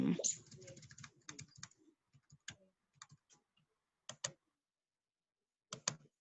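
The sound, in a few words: typing on a computer keyboard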